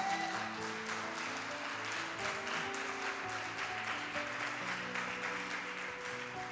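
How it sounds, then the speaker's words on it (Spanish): Congregation applauding in a church service, a sustained patter of many hands clapping steadily beneath organ or keyboard chords. "Dele un aplauso al Señor"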